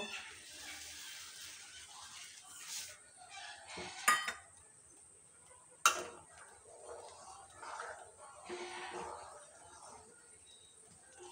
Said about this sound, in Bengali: এখন আমি দুধের মধ্যে চালগুলো দিয়ে দেব